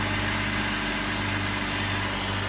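A 2004 BMW X3 3.0 engine idles smoothly with a steady, even hum and no audible misfires or ticking, close and constant throughout.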